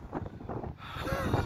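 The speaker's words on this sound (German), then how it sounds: "Da kommt der Wind" Gusty wind buffets a nearby microphone above the rooftops of Hildburghausen, rumbling and rushing louder after a brief lull, with no talking.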